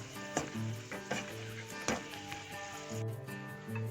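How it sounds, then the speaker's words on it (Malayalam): Cashews and raisins fry in butter in a pan with a soft steady sizzle, broken by several sharp wooden clacks of a spoon stirring and scraping against the pan, close and fairly quiet, with no talk. "ഒരു പാനിൽ ബട്ടർ ഒഴിച്ചിട്ട് കാഷ്യൂനട്ടും കിസ്മസും വറുത്ത് മാറ്റി വെക്കാം"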